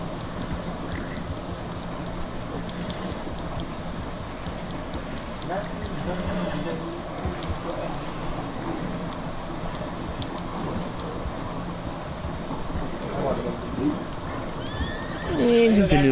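Horse whinnies and hoofbeats in a noisy Red Dead Redemption II soundscape, with voices talking over much of it and a louder burst near the end.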